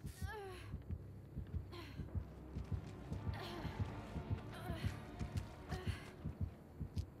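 Heartbeat sound from the horror video game Dead by Daylight, a steady rhythmic low thumping throughout, with game noises and brief chatter from players over it.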